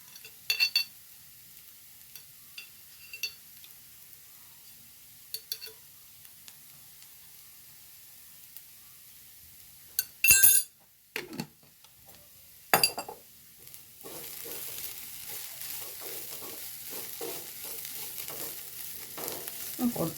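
Chicken cutlet filling sautéing in a pan, with scattered stirring clinks and scrapes early on, then a steady soft sizzle of frying building from the midpoint and continuing to the end, no talking.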